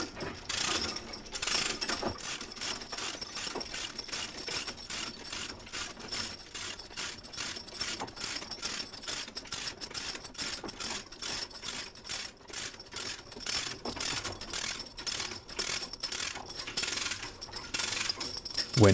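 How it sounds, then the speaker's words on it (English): A lever hoist on a GSL/KSL loudspeaker array clicks and ratchets steadily as the array is decompressed during de-rigging, a dense run of metallic ticks at moderate volume over a constant background. "engage the lever hoist and decompress the array"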